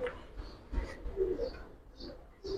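Domestic Giribaz and colored fancy pigeons coo softly in a loft, with a few low, rolling calls from several birds nearby and no talk.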